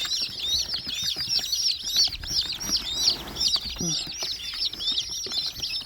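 Young chicks and hens make a busy, close chorus of rapid, repeated high peeps with a few lower clucks mixed in, continuing without pause.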